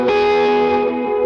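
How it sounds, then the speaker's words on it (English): Electric guitar played through a Redbird V2 amp capture with delay and reverb, a sustained harmonically rich chord ringing out loudly, with a fresh attack near the end blooming into lush echoing tails. "Some delay and reverb."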